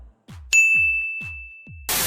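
A bright bell-like ding rings out once and decays with a long sustained tone, amid soft thumps, before a burst of hissing noise.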